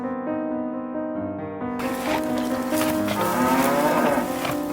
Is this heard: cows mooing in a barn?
yes